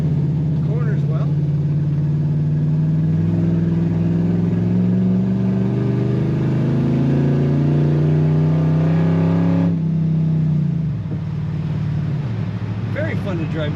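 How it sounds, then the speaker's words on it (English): A 1966 two-door Dodge Coronet Deluxe sedan with a 5.7 Hemi V8 accelerates on the road, its steady engine note climbing in pitch for several seconds before dropping off as it eases, heard from close by inside the car. "Very fun to drive. 1966 two-door Dodge Coronet."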